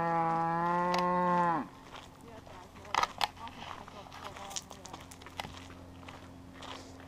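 A cow in a steep Swiss pasture near Lucerne gives one long, loud moo up close. Then come quieter shuffling hoof steps and rustling, with faint voices in the background.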